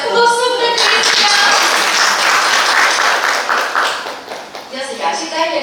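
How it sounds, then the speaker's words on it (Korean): Audience at a climate change and aquaculture forum in Tongyeong breaking into loud, sustained applause that fills the room for several seconds before tapering off, with a voice speaking briefly at the start and end. "큰 박수 부탁드리겠습니다."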